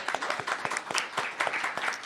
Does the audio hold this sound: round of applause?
yes